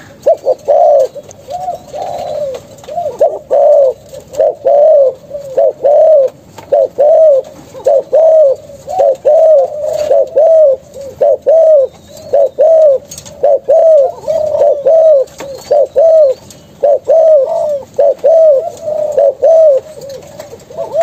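A spotted dove coos close and loud, repeating its soft, rounded call phrase at an even, steady pace again and again with only brief pauses between phrases.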